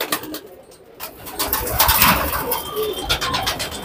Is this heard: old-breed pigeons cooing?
yes